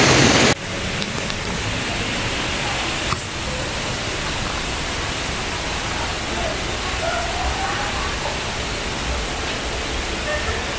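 The Dinalungan waterfall in Aurora sends up a loud, steady broadband roar that holds evenly throughout after a brief louder burst at the start.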